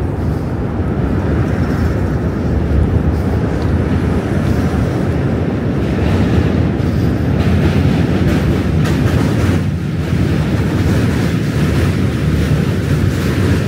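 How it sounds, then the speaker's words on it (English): A train rolls past on a bridge during a walking commute across the East River in New York City, a loud steady rumbling roar that holds for the whole stretch with no voices. "Another train! Another train!"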